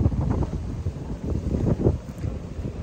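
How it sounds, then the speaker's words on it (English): Steady wind buffeting the microphone, a low rumbling roar that gusts in uneven pulses, with no voices. "Getting a little bit windy"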